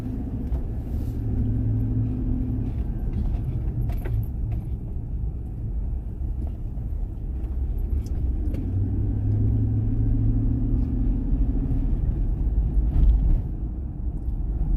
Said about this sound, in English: No cars are stopping here.